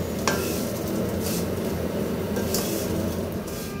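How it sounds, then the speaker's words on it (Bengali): Vermicelli and whole garam masala being fried and stirred in a pan, a steady close sizzle with faint scraping stirs throughout and no talk. "এখন সেমাইগুলো ভেজে নেব"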